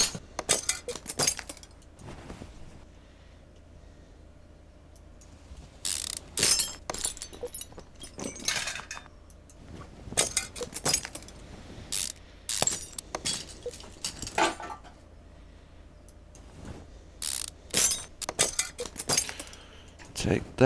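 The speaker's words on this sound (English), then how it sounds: "take and unbolt the spring plate off" Metallic clinks and ratcheting clicks come in quick irregular clusters as a spring plate is unbolted from a Salem Spectre Fastback in Car Mechanic Simulator 2015. Short sharp bursts are separated by brief quiet gaps.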